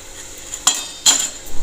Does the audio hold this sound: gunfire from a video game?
no